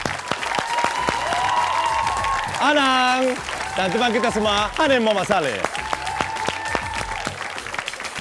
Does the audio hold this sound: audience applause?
yes